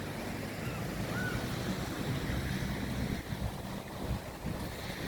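Gusty wind buffets the microphone over a constant wash of ocean surf on Fuengirola beach in Spain, loud and continuous without pause.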